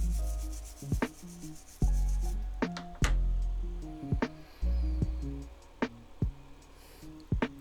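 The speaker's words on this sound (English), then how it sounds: "Go ahead and give it a little clean, a little scrubby scrub." Bristly scrubbing of a flux-coated Nintendo 64 RGB circuit board, a series of short, close rubbing strokes with sharp clicks between them, heard alone.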